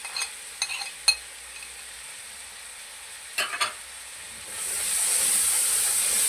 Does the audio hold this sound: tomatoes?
yes